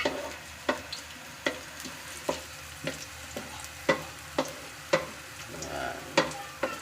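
Ginger and onion frying in a pan with a steady low sizzle, broken by sharp stirring clacks that come about every half second. No one speaks.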